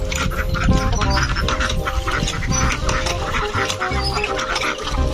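A dense chorus of farmyard ducks quacking together outdoors, loud and close, with overlapping calls going on without a break.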